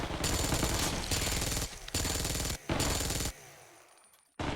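Rapid automatic gunfire from a weapon in the mobile shooter Undawn, loud and close, coming in long sustained bursts broken by short pauses, with the last burst trailing off into quieter ambience.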